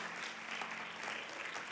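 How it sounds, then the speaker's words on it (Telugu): Church congregation clapping, a soft, fairly distant wash of applause held steady with no speech over it. "హల్లెలూయా, చప్పట్లు కొట్టండి దేవుని కొరకు"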